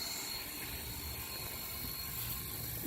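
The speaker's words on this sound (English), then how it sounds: "There's more helicopters." Helicopters fly overhead in a steady, low rotor drone that stays constant for a few seconds, fairly faint and distant, with no voices over it.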